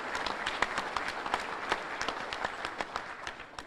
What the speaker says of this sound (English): they deserve a round of applause and appreciation as well